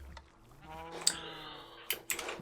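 Sheep bleating in Minecraft, a couple of short wavering bleats standing out over a quiet backdrop with small clicks between them.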